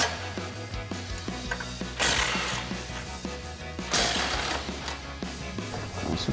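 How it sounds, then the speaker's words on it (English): An 18mm socket on a ratchet removing tow hook bolts from a 2020-2023 Silverado 2500 truck, rapid metallic clicking with two louder clanks, close up. "We've got our 18mm socket and 18mm wrench."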